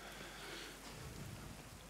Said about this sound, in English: Rain and snow, that sleet and snow hurtling down.